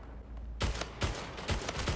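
Rapid gunfire from a portal shooter video game, four punchy bursts in quick succession, loud and close with no talk over them.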